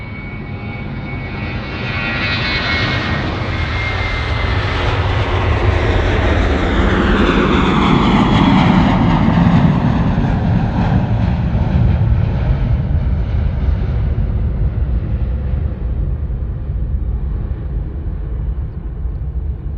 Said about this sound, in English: We have a departure down here closer to us, Jetstar 810. It's an A321.